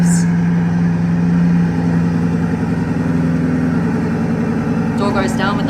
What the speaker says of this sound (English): Time to start the engine. This is one of the best sounding Bugattis